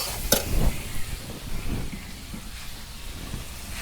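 Water goes into a hot pan of oil-fried dried fish, setting off a sharp burst of hissing and crackling that then settles into a softer, uneven sizzle. No voices.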